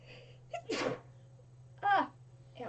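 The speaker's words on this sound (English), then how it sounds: "I have to sneeze again." A sharp, close allergy sneeze bursts out, followed about a second later by another short explosive breath, with quiet hum in between.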